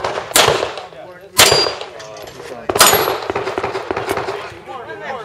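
Gunshots ring out at an outdoor shooting stage, three loud sharp reports spaced about a second apart, each followed by a ringing echo and clatter.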